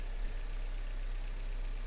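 A small engine idles steadily with a low, even hum, close by and moderately quiet, no talking.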